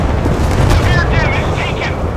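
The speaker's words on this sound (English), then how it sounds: "The enemy has launched missiles. Prepare for impact." Missile impact explosions in the naval combat game Force of Warships, a dense roaring boom rumbling continuously while a synthetic voice speaks over the blast.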